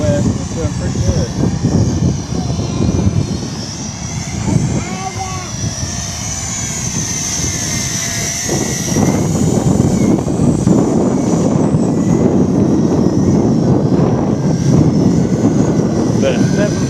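A JJRC H28C quadcopter drone flies into a 15 mph wind, its rotors giving a steady close whine over constant wind rush and buffeting for the whole stretch.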